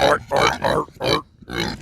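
A pig in poor health grunts up close, five loud, rough bursts in quick succession with brief gaps between them.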